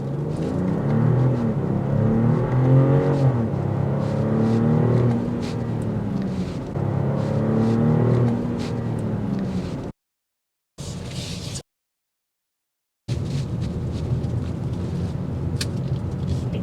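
A 2024 BMW X7 xDrive40i SUV accelerates hard from 0 to 60, its engine rising in rumbling, climbing sweeps repeated through several gear pulls, loud and close, with brief dropouts near the end.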